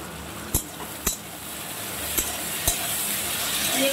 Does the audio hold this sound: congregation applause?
no